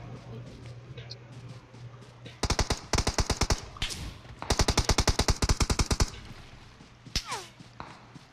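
Gunfire in the mobile game PUBG Mobile, with two long bursts of rapid automatic fire and a few scattered single shots, loud and close, plus soft voices talking in the quieter gaps.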